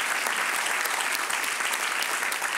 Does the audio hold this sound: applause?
yes